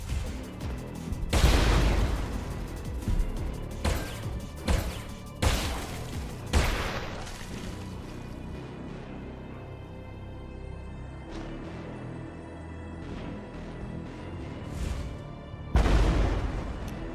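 Heavy booming video game explosions go off in a rapid series, several close blasts with rumbling tails, then a long decaying rumble before one more loud blast.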